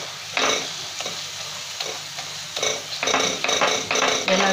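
Tomatoes cook for a Maharashtrian prawn curry as a spoon scrapes and stirs them in a pan, giving several sharp bursts of sizzling and scraping strokes over a low frying hiss.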